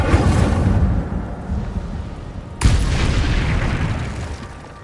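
An Incendio fire spell cast in the video game Hogwarts Legacy, a rumbling whoosh of flame followed by a sudden loud booming burst midway that rolls and fades, with no speech.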